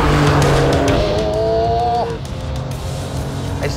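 A 2022 Porsche 911 Carrera (992) on a test track, its engine note loud and close, pitching up before easing off with a hint of tyre noise as it crosses the line.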